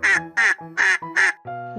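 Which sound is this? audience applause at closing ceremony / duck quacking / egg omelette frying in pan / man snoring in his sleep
duck quacking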